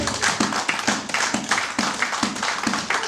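A church congregation claps together in praise of God, a steady rhythmic run of sharp handclaps roughly every few tenths of a second, loud and close, filling the whole moment with no talk over it.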